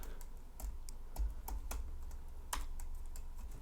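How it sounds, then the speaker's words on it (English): Typing on a computer keyboard, with irregular clusters of sharp key clicks spread across a few seconds, close and moderately loud over a steady low hum. "If I can type right."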